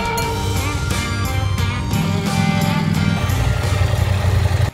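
A KTM 890 SMT motorcycle engine runs steadily while being ridden, its strong harmonic drone rising and falling as the throttle opens and eases, loud and close throughout with no talk.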